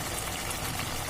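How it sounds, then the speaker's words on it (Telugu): Water is poured into a pan of fried masala paste while making palak paneer biryani, a brief steady splashing pour heard close and alone. "ఇప్పుడు ఇందులో వాటర్ పోసుకుందాం."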